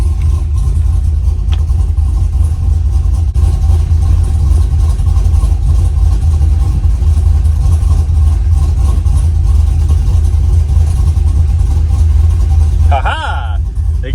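A truck engine runs steadily throughout at a loud, constant low rumble, with a brief higher scrape or shift near the end.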